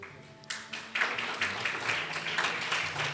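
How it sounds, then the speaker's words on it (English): Audience applause at the launch of a university public health division, a broad wash of many hands clapping that swells after a quiet start and holds steady, moderately loud and fairly close, with no speech over it. "may we give a round of applause."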